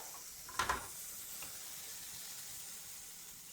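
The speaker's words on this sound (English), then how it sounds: "All you're doing is last minute, that little bit of sear, done." Vegetables searing in a hot pan give a steady broadband sizzle, with a brief louder burst of hissing and stirring near the start before settling into an even crackle.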